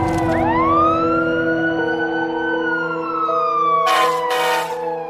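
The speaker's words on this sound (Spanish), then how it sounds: "La sirena de la ambulancia y el camión de bomberos se oyeron a lo lejos." Ambulance and fire truck sirens, a loud wailing tone that swoops up and slowly falls over steady engine drone, with short bursts of air-horn hiss near the end.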